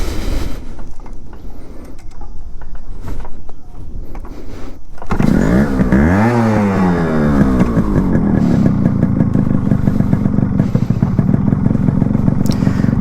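A Yamaha RX100 motorcycle engine starts up after some faint handling noises, then revs repeatedly with rising and falling pitch, loud and close.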